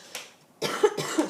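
A short throat sound followed by two firm coughs in quick succession, close and fairly loud, with no talking.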